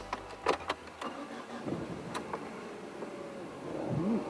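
A diesel-contaminated Ford Escort automatic cranks briefly with a few sharp clicks, then catches and settles into a steady mid-pitched idle.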